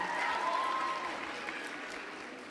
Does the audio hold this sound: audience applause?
yes